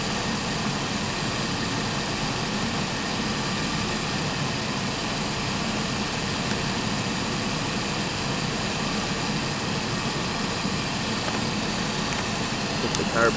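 A 2001 Ford Taurus engine idling with the air conditioning running after an A/C recharge, a steady, loud, unbroken drone with a low rumble and broadband hiss, close by, with no talking.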